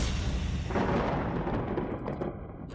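A deep, rumbling roll of thunder used as a sound effect in a comedic stage sketch, a broad low boom that swells and then slowly fades, with a few faint higher crackles near the end.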